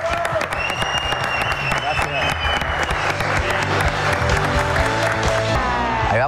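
An audience claps for a band, steady applause with some cheering, mixed with voices and music-like tones throughout.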